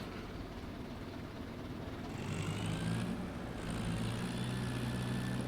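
In Farming Simulator 25, a tractor engine starts up, a low rumble that steps up into a steadier, louder idle drone with a faint whine, steady and alone.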